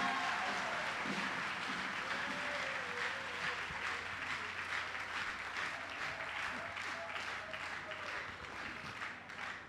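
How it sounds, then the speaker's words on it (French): Congregation applause for a newly married couple at an evangelical church wedding, a steady, dense clapping that carries on for several seconds with faint voices beneath. "Je vous demande de les applaudir,"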